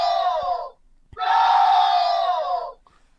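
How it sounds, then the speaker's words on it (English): A crowd sound effect of football fans screaming a goal celebration: two loud bursts of massed yelling, a short one and then a longer sustained roar, with silence between. "It's like a bunch of screaming people screaming goal."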